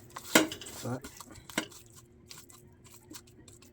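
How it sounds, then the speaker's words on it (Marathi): Mussels being mixed with masala in a pan, with a few sharp clanks and scrapes of a spoon against the pan early on and softer stirring after. "हा थोडासा असा मिक्स करून घेऊया, म्हणजे त्याला पूर्णपणे मसाला लागेल"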